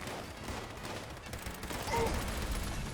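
Pipe weapon gunfire in Fallout 76, fired from the hip at close range; a steady wash of rapid shots runs throughout, moderately loud with no clear pauses between them.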